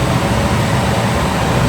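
Continuous rushing air noise from a Llano V12 laptop cooler fan spinning at high RPM, a dense, even whoosh with a low rumble, close and steady throughout the short stretch with no voices.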